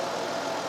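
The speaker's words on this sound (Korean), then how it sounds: "자 엔진 소리 한번 들려드릴게요 자 엔진 소리 한번 들어보세요" A used car's engine idles with a steady, even hum, close and continuous throughout, with no voices over it.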